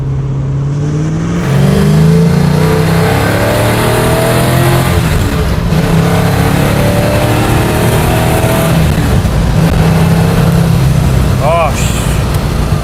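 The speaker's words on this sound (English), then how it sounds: "The sound you get from pushing that pedal down, from the door vibrating, from the hood bouncing around, everything is so loud." A Pontiac Trans Am engine revs hard and accelerates from inside the car, a loud continuous throaty drone with rising and falling pitch as the pedal goes down, rattling on for the full stretch.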